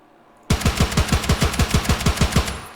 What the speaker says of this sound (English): actually DMR, so it's really powerful gun